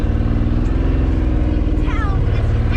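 A Ford Bronco II pulls away slowly in first gear through snow, a steady low engine drone with a pulsing idle rhythm, and voices talking over it.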